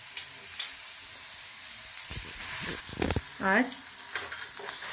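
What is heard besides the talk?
onions frying in a pan with ginger paste added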